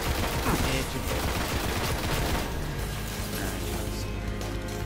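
Gunfire in the video game Destiny, a dense fusillade of rapid shots and bursts that thins out toward the end, loud and continuous, with light game effects underneath.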